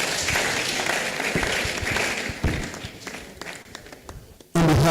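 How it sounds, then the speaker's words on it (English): A college lecture audience applauds, a dense wash of clapping that gradually thins out and fades, with a few scattered claps before a sudden louder noise cuts in. "Please can we give him a round of applause as he does that."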